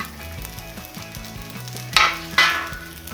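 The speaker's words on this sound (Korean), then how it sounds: "마늘이 노릇하게 볶아졌으면 아까 준비해 두었던 멸치도 넣어주세요. 그리고 호두도 함께 넣어주세요." Garlic, anchovies and walnuts stir-frying in a pan give a steady sizzle, with two louder bursts of crackling as the food is stirred or added, close up and without talk.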